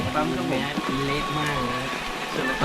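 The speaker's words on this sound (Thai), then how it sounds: "ฝนตกลงมาแล้วด้วย หนักก็ด้วย" Heavy rain pours down during a thunderstorm at a trail running event, a steady broadband hiss running throughout beneath near continuous talking.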